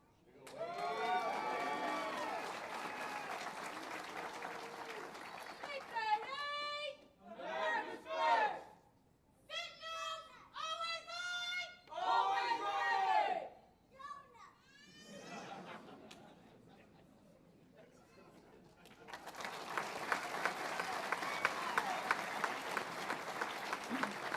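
An audience at a Warrant Officer Training School graduation applauds the graduates: a sustained burst of clapping opens, a voice speaks in the middle, and a second long round of applause rises near the end, moderately distant.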